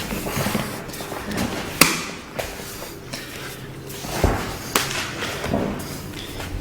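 Sharp slapping strikes land on a training partner's body during Muay Thai clinch practice, several loud cracks and thuds spaced irregularly over shuffling movement and breathing noise.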